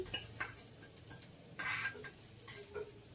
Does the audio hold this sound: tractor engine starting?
no